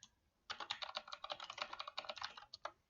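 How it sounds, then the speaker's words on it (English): Fast, steady typing on a computer keyboard, with a quick run of crisp key clicks after a brief pause, close and fairly quiet, in an otherwise silent room. "you can just click underneath that cell and start typing"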